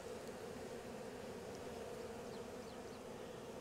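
Honey bees fanning at the entrance of a hive box during a nuc transfer into full-size equipment, a steady dense buzzing drone that holds throughout, close and continuous with no talking.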